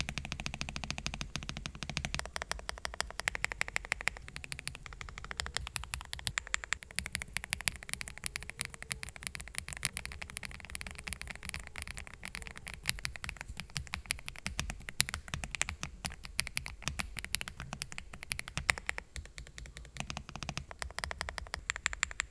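EPOMAKER TH85 mechanical keyboard being typed on, a fast, continuous clatter of close, crisp key clicks with a brief burst of rapid strokes, no voices.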